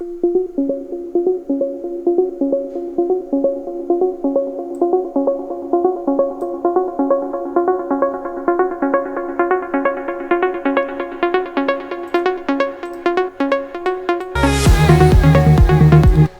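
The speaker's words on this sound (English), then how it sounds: "you need to hear how the delay filters off" Deep house synth lead repeating a rhythmic melodic pattern while an automated delay opens up and trails behind it, the echoes growing brighter, before a full loud mix with heavy bass and drums bursts in near the end.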